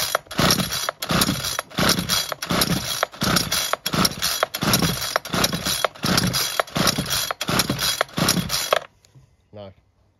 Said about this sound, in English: We'll take the throttle off because the engine might be flooded out. We'll just see if this will run off its own back.